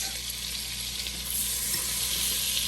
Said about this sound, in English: Now we're going to add our butter, let our butter melt.